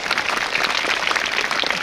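A school audience at a Republic Day celebration claps for teachers, students and the principal, dense sustained applause from many hands filling the hall without a break.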